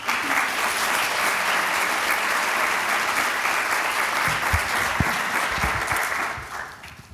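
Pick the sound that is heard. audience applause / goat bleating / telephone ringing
audience applause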